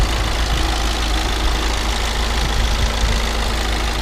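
A Mini Cooper S engine idles with a steady, even rumble heard up close under the open hood, continuous and without speech.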